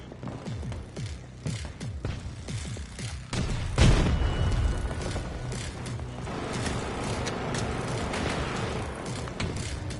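Planted explosive charges go off in Battlefield 2042: a heavy boom near the middle rises out of a busy battlefield din of distant gunfire, mechanical clanks and rumbling that carries on afterward. No talking.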